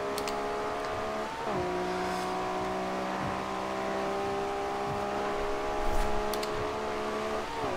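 A 2012 Ferrari F12berlinetta in Forza Horizon 2 holds a steady high-gear engine drone, pitch easing up after a quick shift near the start, loud and continuous with no talking.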